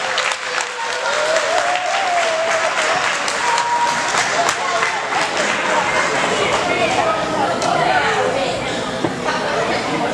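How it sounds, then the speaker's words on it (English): An indoor crowd at a recreation banquet claps steadily for a Coach of the Year, dense sustained applause with a few voices and cheers mixed in throughout. "Let's give him a round of applause."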